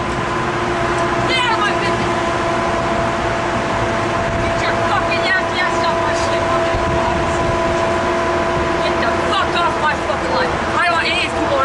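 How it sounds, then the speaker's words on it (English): Metrolink 624 passenger train bound for Oceanside rolls past Commerce station with a steady, loud rumble and faint wheel squeals, while a person talks over it. "here goes Metrolink 624 to Oceanside."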